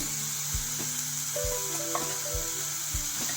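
Ingredients for cucumber chutney fry in a pan with a steady, close sizzle, broken by soft, regular knocks of stirring about every half second.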